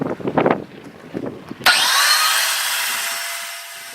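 A tile saw is used on a granite pine-tree cutout. A few handling knocks and clatters come first, then the motor snaps on into a loud, steady high whine that continues to the end.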